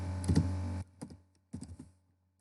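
Computer keyboard typing while writing Python code: a quick cluster of key clicks, then two short separate bursts of keystrokes, close and fairly quiet.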